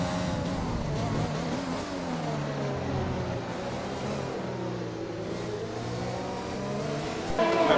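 Formula 1 race car engine in F1 2020 at Spa, a continuous loud high-revving whine rising and falling through gear changes over the whole stretch, with a voice speaking over it.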